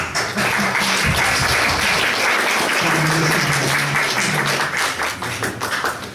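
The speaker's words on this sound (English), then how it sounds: "give them a big applause" A crowd applauding steadily and loudly for several seconds, dense clapping that tapers slightly toward the end.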